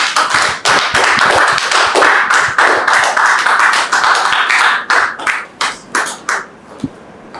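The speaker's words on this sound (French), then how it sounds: "Merci de recevoir Dame Georgette sous vos applaudissements" An audience welcomes a guest onto a stage with clapping, a dense, close burst of many hands at first, then thinning into scattered separate claps that fade out toward the end.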